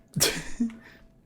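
A single sharp sneeze from a character in the video game Fall of Porcupine bursts out, close and loud, followed by a brief fading tail.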